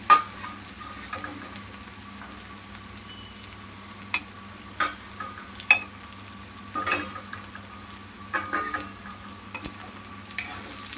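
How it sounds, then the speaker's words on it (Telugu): Okra fries in a pan under a steady sizzle, and a spatula stirs and scrapes the pan in irregular bursts of clinks and knocks, close by and with no talking. "తిప్పుకుంటూ బెండకాయలను అయితే ఫ్రై చేసుకోవాలి."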